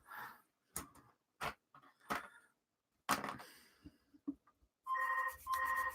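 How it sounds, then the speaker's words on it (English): Mobile phone ringing in a room, two short bursts of a repeating electronic ringtone at the end, after scattered knocks and clatter, with no talking over it. "And now my phone's going off."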